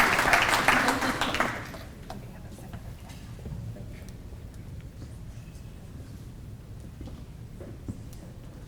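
Audience at a fire and police recognition ceremony breaks into a loud round of clapping that fades within about two seconds, leaving a quieter room with scattered ticks and murmurs.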